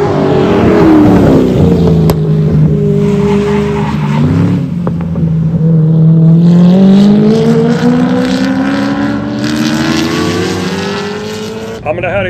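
A loud race car engine revs and climbs in pitch as it accelerates close by out of a bend at a racetrack, with a brief tire screech and voices talking underneath.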